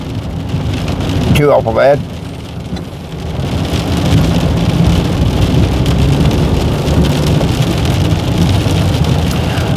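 Heavy rain drums steadily on a car on a nasty, rainy day on the road, a dense continuous wash throughout, with a brief spoken remark early on.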